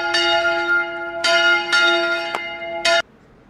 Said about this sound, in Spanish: Están tocando las campanas ahora mismo.